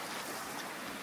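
Waterfall seen from its top in Australia, a steady broadband rush of falling water that stays loud and even throughout, with no voices over it.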